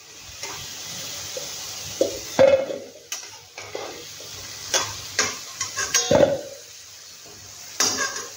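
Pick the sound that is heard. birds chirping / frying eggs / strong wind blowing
frying eggs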